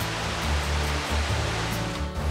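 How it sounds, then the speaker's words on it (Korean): A mountain valley stream flows in a constant, dense rush of water that fills the scene evenly from start to finish, with no voices over it. "계곡에는 다양한 소리가 넘쳐난다."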